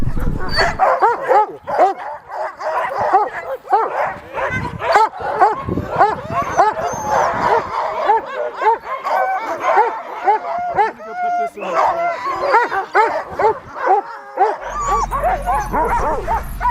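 Sled dogs on a gang line bark, yip and whimper excitedly in a dense, overlapping chorus close by, with a person talking at times among them.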